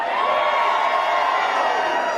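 A crowd at an election night watch party in Arizona roars with sustained cheering and whoops, a dense, loud wall of voices that holds steady throughout.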